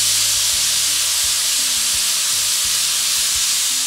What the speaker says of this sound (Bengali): অলরেডি প্রেসার কুকারের সিটি পড়ার মোটামুটি একটা শুরু হয়ে গেছে।